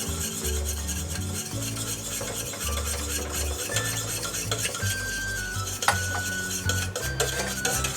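Butter whisked little by little into homemade hollandaise sauce, a continuous rhythmic scraping and clinking of a whisk against a bowl, close and steady, without talk.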